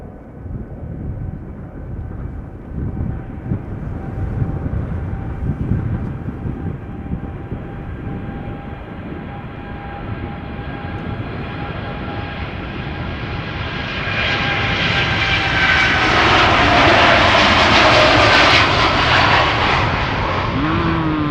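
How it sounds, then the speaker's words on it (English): An Air Canada Boeing 787 Dreamliner takes off at Schiphol Airport bound for Toronto, its jet roar building steadily into a loud, close, hissing swell near the end. "This is Air Canada Flight 809 outbound to Toronto, 7878 Dreamliner"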